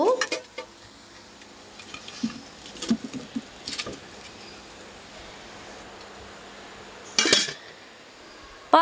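Grated coconut with turmeric dry-roasting in a pan while being stirred: soft, intermittent scrapes and light rattles over a faint background, with a louder scraping burst near the end and no talking.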